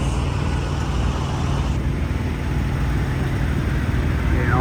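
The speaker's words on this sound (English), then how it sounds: "Got that APU running. Oh yeah, APU is running." A truck's auxiliary power unit runs in cold weather beside a John Deere 310 haul truck load, a steady, droning engine rumble with constant low-frequency noise and no breaks.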